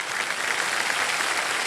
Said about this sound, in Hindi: तो हम आपकी सराहना करते हैं और ताली बजाते हैं।